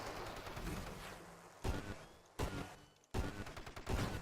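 Rail gun firing in the space shooter Nova Drift, several sharp loud blasts spaced about a second apart over a constant noisy wash of game effects.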